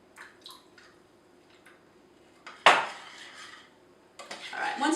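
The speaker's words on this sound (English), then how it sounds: "Chucking it all in, giving it another little stir." Chocolate pudding mixture being stirred in a pot, with scattered spoon scrapes and soft clinks against the metal, then louder splashy pouring and stirring toward the end, close and alone.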